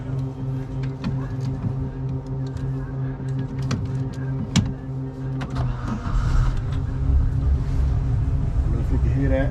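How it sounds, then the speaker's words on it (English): Starboard outboard motor on a moored boat on the Chesapeake turns over and catches, a steady low engine drone rising into a rougher, louder idle under ambient noise and light wind. "This motor right here just started. Which is here, the starboard motor."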